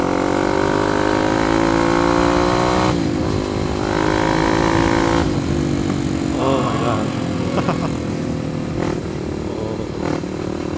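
A Kawasaki KLX 250 supermoto motorcycle engine revs and surges while riding, with rising and dropping pitch, loud and close, wind buffeting and a voice talking over it.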